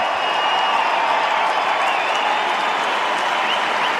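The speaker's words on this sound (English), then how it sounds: "The official photographs taken, another enormous cheer." A large stadium crowd at an AFL Western Derby trophy presentation between West Coast and Fremantle, with steady, loud, continuous applause and cheering filling the ground.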